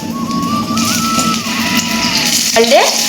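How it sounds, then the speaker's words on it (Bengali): Fish rubbed with salt and turmeric fries in mustard oil with a steady, close sizzle, while a thin whistling tone drifts above and a brief sweeping squeal rises near the end. "এবার আমরা সর্ষের তেল দিয়ে দেব মাছটা ভাজার জন্য আগে থেকে নুন হলুদ মাখানো মাছগুলো তেলের মধ্যে দিয়ে দেব"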